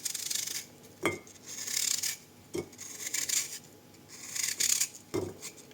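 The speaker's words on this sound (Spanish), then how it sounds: "lo que vamos a hacer es cortar láminas muy finas" Knife slicing an apple into very thin slices on a board, with sharp broadband rasping strokes and three distinct cuts landing at roughly even intervals, close and moderately loud.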